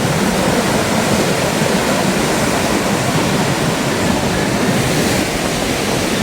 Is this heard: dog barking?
no